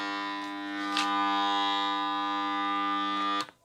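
An air compressor motor with a faulty start capacitor hums loudly and fails to start, a steady harmonic buzz lasting about three seconds before it is abruptly cut off.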